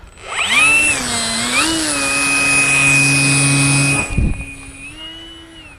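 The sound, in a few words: Easystreet model plane with electric ducted fan motor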